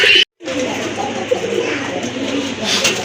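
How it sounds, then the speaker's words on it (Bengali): A pair of colourful fancy pigeons coo softly and steadily at close range over a continuous low background murmur, after a brief silent gap at the start. "খুবই চমৎকার, কালারফুল, কোয়ালিটিফুল এক জোড়া কবুতর, দেখার মতো"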